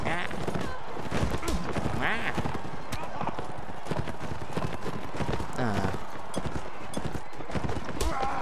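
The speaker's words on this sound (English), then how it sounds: "Now this is just a fuckload of horses" Many horses gallop together in the Roman Invasion mod of Mount and Blade, a dense, continuous drumming of hooves with occasional whinnies and battle clatter, loud and close, with someone talking over it.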